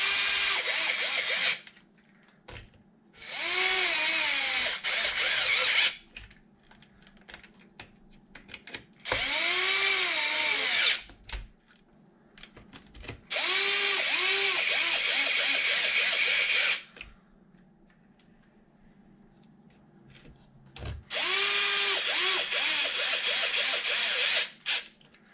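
A power tool drives screws to tighten the front differential cover on a Traxxas XRT RC truck, whirring in several loud bursts of a few seconds each, separated by quiet pauses.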